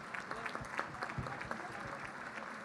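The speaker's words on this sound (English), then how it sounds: "Big round of applause," Quiet, scattered clapping from a gala banquet audience, a loose patter of individual hands heard at a distance, with faint voices mixed in.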